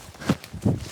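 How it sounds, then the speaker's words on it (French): Two heavy footsteps thud at night outdoors, spaced about a third of a second apart, fairly close and alone. "il y a des bruits de pas, t'entends?"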